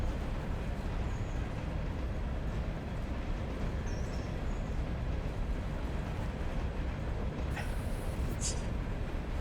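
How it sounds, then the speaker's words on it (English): A steam locomotive rumbles steadily through a short-line branch run in the Railroader game, its low continuous chuffing drone constant throughout with a brief hiss near the end. "It's definitely not the right locomotive for this particular job"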